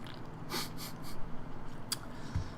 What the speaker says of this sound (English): Sorry, I was clearing my throat.